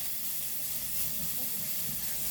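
Egg frying in a pan for a breakfast burrito, a steady soft sizzle and hiss throughout with no talking.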